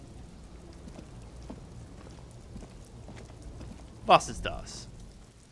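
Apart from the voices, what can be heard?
rain in the video game Disco Elysium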